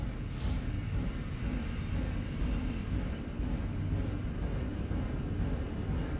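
A long freight train rumbles steadily past, a continuous low rolling roar with faint clanking, no voices.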